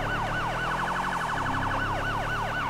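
A police car siren in the GTA V roleplay game wails continuously in a fast rising-and-falling yelp pattern, loud and steady over a low engine hum, with no talking.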